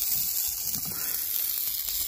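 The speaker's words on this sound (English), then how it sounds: "you can hear, obviously, a really nice sizzle going on there" Steady, close sizzling of grilled cheese frying in a pie iron on a Firebox stove, a constant hiss with faint crackles and no talking.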